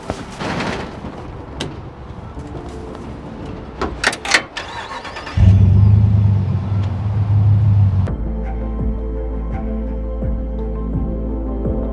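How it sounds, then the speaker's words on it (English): A pickup truck, parked in a snowy lot during a camping trip, has its door handled and engine started. A loud, low rumble follows as the engine settles into a steady run, with brief clunks and clicks beforehand. "I think I'm gonna reposition the truck real quick"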